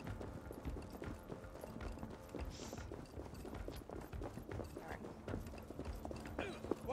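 Horse hooves pound in a steady galloping clip-clop throughout, close and continuous, in the Viking-era game Assassin's Creed Valhalla, with someone talking over the hoofbeats.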